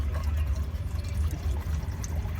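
Engine flush liquid pours into the engine of a Tata Ace Gold mini truck that has a misfire, making a steady close glugging and trickling flow over a low rumbling background, with no talk.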